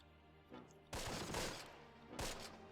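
Gunfire from the Close Combat strategy game at Blankenberg Bridge: a faint click then two sharp, loud bursts of shooting, the first longer and rattling, the second shorter, over a quiet low hum.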